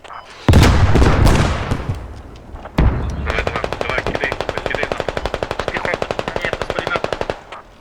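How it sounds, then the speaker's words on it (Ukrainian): In the video game Squad, two heavy booming shots ring out from a BMP infantry fighting vehicle, followed by a long, rapid, evenly paced burst of loud automatic cannon fire, close and powerful. "Це БМПшка стріляють"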